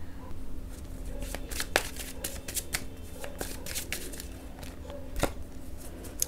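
Tarot cards shuffled by hand close up, a steady run of soft papery riffles and flicks with a few sharper slaps, quiet and alone without talk.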